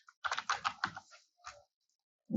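Quick bursts of keystrokes on a computer keyboard while a product name is entered for an Amazon listing, a rapid cluster of clicks followed by a few scattered taps and a pause, close and clear with no talk.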